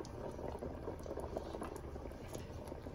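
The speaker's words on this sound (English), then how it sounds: "So the goat head is partially cooked. It's bubbling there." A pot of goat head stew with curry bubbles steadily, a dense continuous simmering patter, close but fairly quiet.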